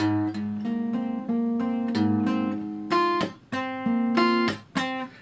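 Acoustic guitar playing measure 56 of a song at a slow tempo, a run of distinct plucked and arpeggiated notes and chords with clear gaps between attacks, close and solo, with no voice.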